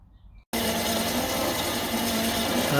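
Machining a Myford cross slide T-slot cover, a steady close mechanical whir and cutting noise that starts abruptly after a brief quiet moment and runs on evenly to the end.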